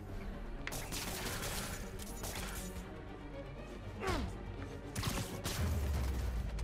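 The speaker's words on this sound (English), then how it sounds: "Shooting at me is very rude" Enemy gunfire in Marvel's Spider-Man Remastered, fairly quiet scattered shots and bursts mixed with crashes, impacts and whooshes from combat in a lab.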